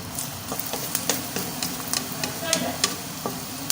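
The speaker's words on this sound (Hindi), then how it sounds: "अब इसमें डालेंगे हम ये प्याज। इनको फ्राई होने देंगे, अच्छी तरह ब्राउन होने देंगे।" Sliced onions fry in hot ghee, a loud close sizzle with frequent spatula scrapes and stirring clatter at an irregular pace.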